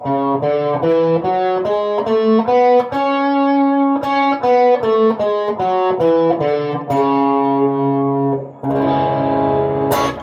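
An electric guitar with effects plays a quick run of single notes up and down a Phrygian scale, sustained and bright, ending on a distorted chord.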